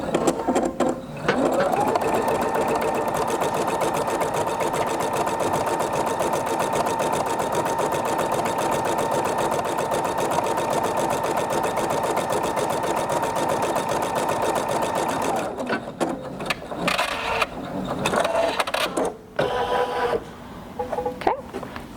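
A Sapphire 85 sewing machine stitches a line on a Valentine's mug rug, a loud, steady, rapid mechanical whir lasting about fifteen seconds, then stopping and giving way to brief clicks and handling noises.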